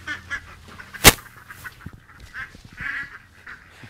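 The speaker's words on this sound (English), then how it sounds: "Well, we have my 4 ducks." Four pet ducks call around a farmyard in a series of short, moderately near quacks and honks with one loud sharp burst early on, scattered irregularly over low background rumble.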